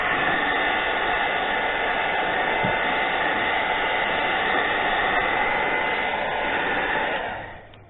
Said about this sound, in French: à l'aide du sèche-cheveux, on va faire en sorte que le grip se retire plus facilement